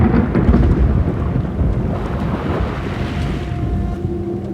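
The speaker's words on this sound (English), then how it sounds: "The only thing making sound was the planet itself. Storms, earthquakes, ocean waves, volcanoes." A thunderstorm rumbles over crashing ocean waves, a steady, loud, dense roar that fills the whole stretch with no voices.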